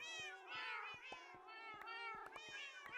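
Cats in a video game's cat farm meow repeatedly in quick succession, several overlapping high calls and short clicks close by, with no talking.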